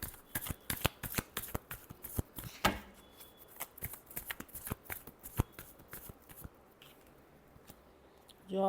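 Tarot cards being shuffled by hand in a rapid run of crisp, close riffling clicks and flutters that rises and falls for several seconds, with no talk over them.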